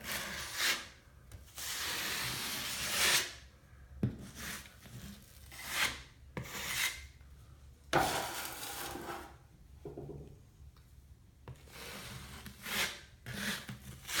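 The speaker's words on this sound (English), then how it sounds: "once we get the spackle on, we're gonna need to just kind of feather this out" Scraping and rubbing strokes of a putty knife feathering spackle across a drywall patch, repeated broad swipes in an uneven rhythm, close and fairly loud with short pauses between passes.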